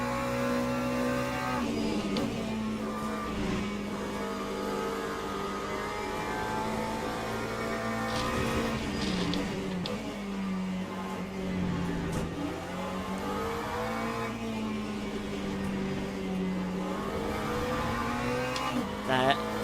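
Ferrari Hypercar in the racing game Le Mans Ultimate, its engine droning steadily with pitch rising and falling through gear changes, layered with other race cars over a continuous loud track soundscape.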